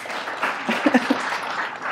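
Lecture audience in a history of architecture class clapping for newly introduced recitation leaders, a moderate, diffuse patter of many hands filling the room for a couple of seconds, with a few sharper claps standing out.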